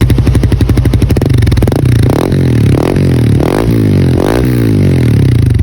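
A Winner X 150 motorcycle fitted with a replica aftermarket exhaust pipe idles with a loud, close burbling pulse, then is revved in several short throttle blips before settling back to idle.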